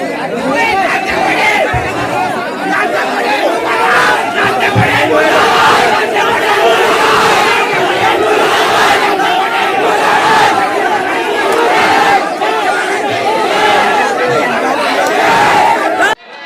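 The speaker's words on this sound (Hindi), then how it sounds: "सुना आपने, राम दांगोड़े मुर्दाबाद" Protest crowd in Gandhwa, Khandwa, Madhya Pradesh, chanting slogans against Pandhana MLA Ram Dangode, a dense, loud mass of voices and shouting that holds steady without pause.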